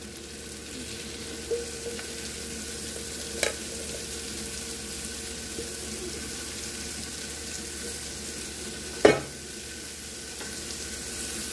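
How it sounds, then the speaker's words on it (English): Cabbage with kielbasa, shallot and garlic frying in a pan over mid-low heat, giving a soft, steady sizzle with a few brief knocks and one sharper clatter. "Go ahead and drop your temperature down to mid-low and throw in your cabbage."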